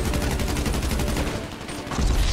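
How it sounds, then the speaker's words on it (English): Rapid gunfire in Grand Theft Auto V Online, dense overlapping shots and bursts firing almost continuously, loud and close, with a brief lull before the shooting picks up again. "I'm fucking shooting at you"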